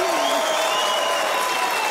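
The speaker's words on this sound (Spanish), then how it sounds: "¡Un aplauso para la gente del jaula!" A studio audience applauding and cheering loudly at a Colombian television comedy show, a dense wash of clapping with shouting voices mixed in.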